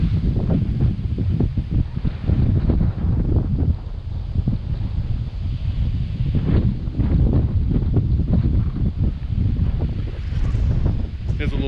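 Strong wind on an open hilltop at a nature center, a loud continuous roar buffeting the microphone with gusty low rumble throughout, no pauses.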